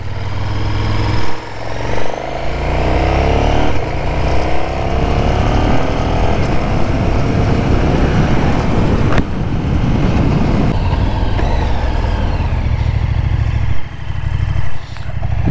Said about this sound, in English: Just do a little bit of easy acceleration up through the gears.